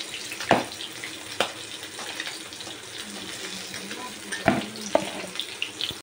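Pieces of katla fish frying in hot oil in a home kitchen, a steady soft sizzle with a few sharp clinks of utensils against the pan.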